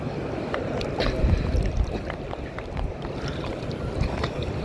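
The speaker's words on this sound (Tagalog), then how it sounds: "malakas na hangin." Strong sea wind buffets a small fishing boat in rising waves, producing loud, gusting rumble and microphone wind noise with water sloshing and knocking throughout.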